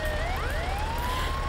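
A wailing ambulance siren in the Indonesian bus and truck driving game Bus Simulator Indonesia, rising and sweeping in pitch over steady engine rumble, loud and close.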